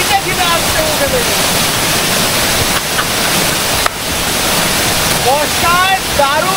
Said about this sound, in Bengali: ধরে ধরে বর্ষার জল একদম ধরে ধরে পড়ছে